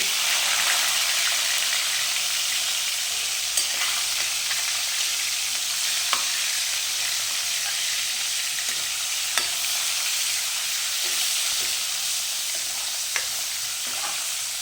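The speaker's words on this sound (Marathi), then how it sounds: "हे मासळीचे तुकडे जे आहेत ते आपण थोडे परतून घेऊ, तळून घेऊ." Dry surmai fish pieces fry in hot oil, giving a steady, dense sizzle that holds for the whole stretch, with a few faint clicks of the pan or spatula now and then and no voices.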